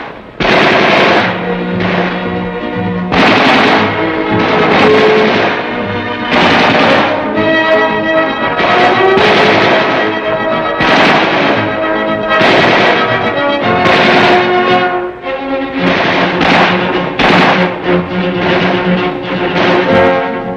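Rifle and weapons fire on a military firing range, a loud, dense stream of repeated bursts and sharp reports going on without a break for about twenty seconds, close and powerful.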